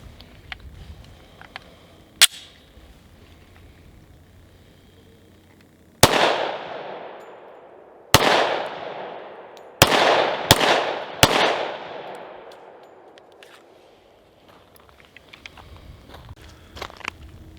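A Smith & Wesson M&P10 rifle in 10mm fired outdoors: one faint early crack, then five loud, close shots at irregular intervals, each with a long echoing decay.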